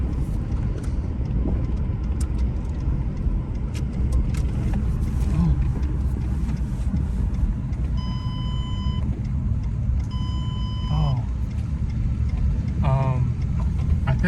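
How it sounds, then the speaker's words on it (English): A revived hybrid car's engine runs steadily throughout, a constant low rumble, with a few short electronic beeps and some voices talking over it. "I think I got the car running."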